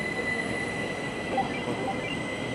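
At Interlaken Ost station a train hums and rumbles at a standstill, with faint high wheel squeal and a steady tonal whine over quiet platform ambience.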